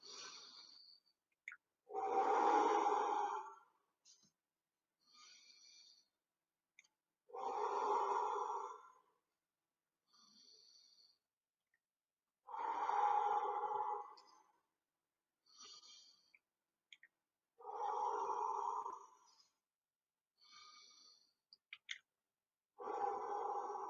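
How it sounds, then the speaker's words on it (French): Five slow, deep breaths close the reflexology session, each a long, soft, close-up breath with quiet pauses between them in an otherwise silent room. "Maintenant, on va prendre pour terminer, 5 grandes respirations."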